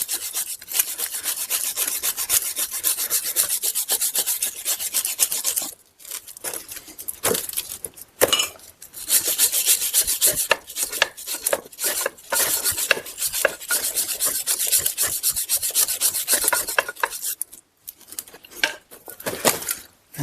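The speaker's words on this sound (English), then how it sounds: "we'll take a wire brush and we'll thoroughly clean some of that rust out of there" Stiff wire brush scraping rust from a brake caliper bracket on a 2010–2017 Chevy Equinox, a steady close rasping scrub in quick repeated strokes with a few brief pauses, loud and continuous with no talking.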